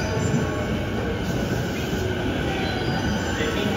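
A Sobu Line local commuter train arrives at Shinjuku Station, Tokyo, rumbling steadily with a faint metallic squeal of wheels, continuous and moderately loud, no voices heard.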